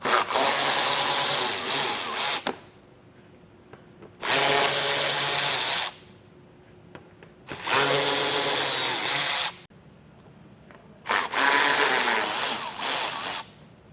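A power tool whirs in four bursts of about two seconds each, separated by quiet gaps, as 7mm screws are backed out beneath a 2015 Chevrolet Spark; close and loud.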